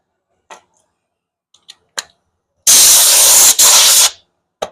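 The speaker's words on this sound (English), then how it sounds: "Blow the dust off." Compressed air blasts dust off a sanded and scuffed Porsche Carrera wheel during curb rash repair: a loud hiss of about a second and a half, briefly interrupted, then resuming, with a few small clicks and taps before and after.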